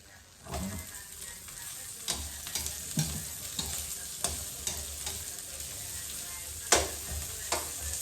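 Onions sizzle steadily in a hot pan with garlic and ginger, with occasional sharp clinks and scrapes of a utensil stirring, fairly close.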